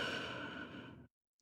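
A sleeping character's snore in the video game Love and Deepspace comes as one soft, breathy exhale lasting about a second, faint and close, then fades into silence with no talking.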